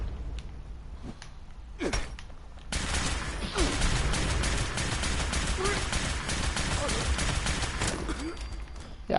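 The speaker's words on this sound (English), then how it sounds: "Let's try that radium rifle." A radium rifle fires in Fallout 76. After a few sparse sounds, sustained rapid automatic bursts come in loud and close and run continuously to the end.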